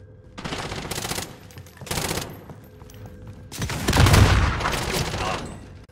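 Bursts of automatic gunfire from a Call of Duty Warzone (Cold War) match, with a sniper class in play: two short volleys early, then a louder, sustained barrage with heavy low booms near the end, close and dense.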